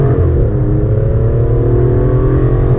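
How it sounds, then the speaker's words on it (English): An Aston Martin DBS Superleggera accelerates hard, its engine and exhaust letting out a deep, continuous roar with rising harmonic tones, loud and close from inside the car. "Obviously it's got plenty of noise from the exhaust."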